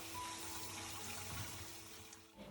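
Water runs steadily while overnight-soaked glutinous rice is rinsed clean, a continuous close splashing hiss that tapers off near the end.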